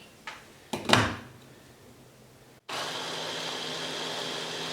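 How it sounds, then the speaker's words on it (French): A blender mixing banana pancake batter, starting after a few clunks and knocks, then a steady loud whirring drone that runs alone to the end. "Faut juste mixer jusqu'à ce que ce soit bien incorporé, que la banane soit bien blendée"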